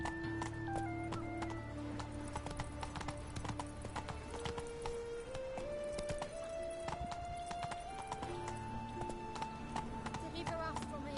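In the video game The Witcher 3, a horse's hooves clip-clop in a steady, continuous rhythm while music plays and someone talks over the top.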